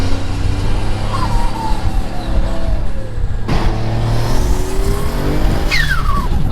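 A Mitsubishi 3000GT with a two-step launch setup roars hard and close, its engine pitch climbing through gears with a shift break midway, then pulling again in a steady loud drone.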